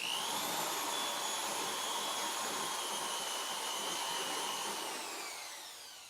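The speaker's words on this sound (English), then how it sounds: "what you can do is you can use a drill mixer and just stir this up." A drill mixer stirring a batch of pottery glaze whirs steadily at close range, a loud continuous motor whine with a rising pitch at the start that holds for several seconds before easing off slightly at the end.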